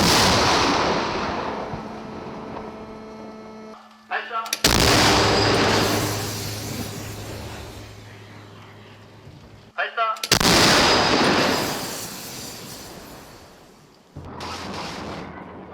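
Artillery guns test-firing shells on a range, loud sharp blasts that each cut off a stretch of roaring rumble, about three heavy shots spread over the clip, with no talking over them.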